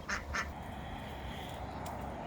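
A pair of quick quacks from ducks near a backyard hen flock, followed by a faint third call over quiet outdoor ambience.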